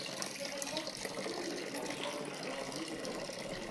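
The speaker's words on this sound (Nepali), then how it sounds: "यहाँ पानी हाल्छ न त यहाँ चाहिँ पानी तातै आएको छैन हो आयो" Tap water runs steadily into a basin for a pedicure, a soft, even splashing hiss kept up throughout at low volume, with no talking.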